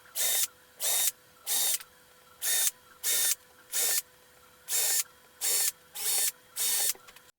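A 3D printer working on Gridfinity storage bins, giving off regular bursts of high buzzing motor noise, about ten evenly spaced pulses with short quiet gaps between them, close and clear with no talk.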